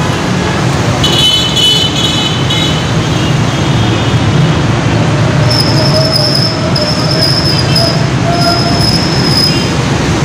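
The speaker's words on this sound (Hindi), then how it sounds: "वो जा रही है सामने मेट्रो बस।" A Rawalpindi metro bus passes on the elevated corridor above Murree Road, a steady rolling roar with high squealing tones and a mid hum, loud and continuous, with no talk.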